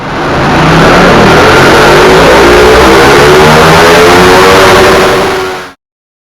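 A 2016 Ducati Panigale 959 sport bike engine revs hard and steadily on a dyno after an ECU flash, a loud, sustained high-revving roar with rising harmonics that cuts off abruptly near the end.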